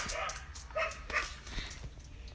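A female dog barks outdoors in a few short, sharp yips and woofs that repeat unevenly over a constant rushing background noise, heard at a moderate distance.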